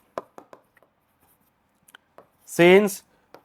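Marker or chalk strokes on a board during a Class 10 maths lesson, a few short sharp taps and scrapes spaced apart, with a brief burst of the teacher's voice near the end.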